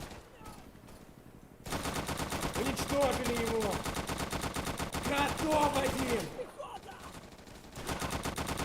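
Mounted machine gun in a WWII sandbox shooter hammers out long sustained bursts, loud and close, with a short pause before firing resumes and a voice talking over the gunfire.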